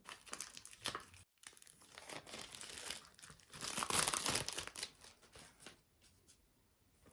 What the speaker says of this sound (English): Let me try to penetrate this foil